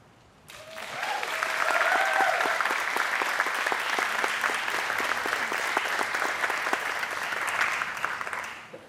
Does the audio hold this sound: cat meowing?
no